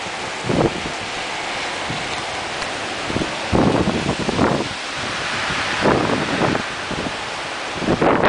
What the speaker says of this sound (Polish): Nie, wicherek, deszczyk nocowy.